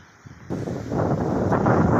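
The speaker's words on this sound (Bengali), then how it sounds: "অনেক তুফান বাতাস আর বৃষ্টি তো আসতেছে" Gusty storm wind roars into the microphone in Feni, Bangladesh, building from quiet to a loud, steady rush that keeps swelling.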